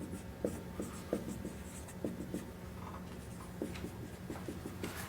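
Pen or marker scratching across a surface while an equation is written by hand, soft irregular strokes and taps in quick bursts, close and quiet with no talking.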